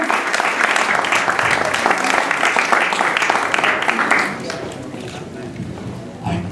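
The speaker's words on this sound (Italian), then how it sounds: "gradirei un applauso di questa meravigliosa." Audience applause at a thanksgiving celebration at Palazzo Ferrajoli, dense loud clapping that holds steady for about four seconds, then thins and fades as a voice begins speaking.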